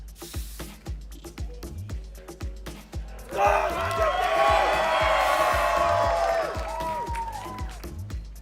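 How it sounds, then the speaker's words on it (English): Stadium crowd at a Valorant esports match between 100 Thieves and Leviatán, a swelling roar of cheers and whoops rising midway and then fading, over a steady rhythmic stomping beat, with no clear words over the noise. "Crowd still alive and well."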